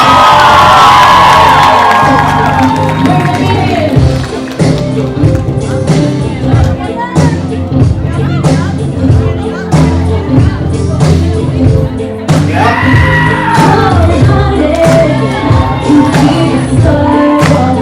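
Wedding guests cheer, whoop and shout loudly as the newlyweds are introduced, a dense sustained crowd roar with music playing under it.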